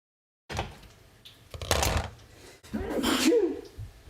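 A single sharp sneeze bursts out in a home kitchen while croquettes are being made, preceded by a short intake of breath and some rustling and handling noises close by.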